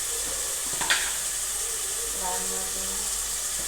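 Sautéed onion and tomato with turmeric and red chili powder sizzle in a pan for a spicy green onion and tomato sabzi, a steady soft frying hiss with a brief utensil clink while a voice speaks over it.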